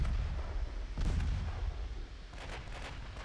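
Naval gunfire in the warship game Ultimate Admiral: Dreadnoughts, heavy low booms over a dense rumbling roar, loud and close with a couple of blasts standing out.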